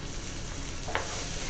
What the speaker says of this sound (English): So I'm going to add a little more oil, and I'm going to start frying these.